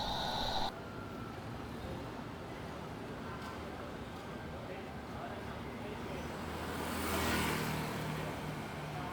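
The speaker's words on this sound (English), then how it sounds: "it was a rush time of the traffic for a city, especially the big city like Ho Chi Minh" Rush hour city traffic in Ho Chi Minh City rumbles as a steady wash of engines, with one louder vehicle swelling past near the end and a voice faintly present.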